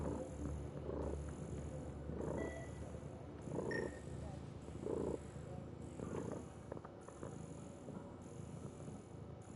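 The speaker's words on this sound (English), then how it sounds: "if you start hearing cat purring, that's Pip" A cat named Pip cuddled up and purring: a faint, close, soft rhythmic purr rising and falling about once a second, with quiet background sound.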